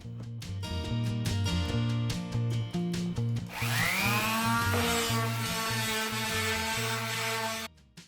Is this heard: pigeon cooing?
no